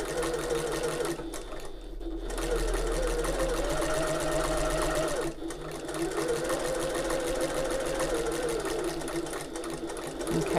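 Sewing machine stitching the lined-up top and bottom fabric edges of an open-top tote an eighth of an inch in, a steady close whirring hum with two short pauses where the motor drops off before resuming.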